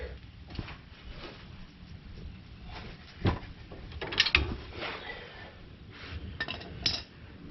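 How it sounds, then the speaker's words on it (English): A breaker bar works loose over-tightened aftermarket strut hardware on a 2007 Nissan Titan, giving faint metallic clinks, ratcheting clicks and a few sharper knocks scattered over a low background. "Just used a breaker bar to get that broke loose."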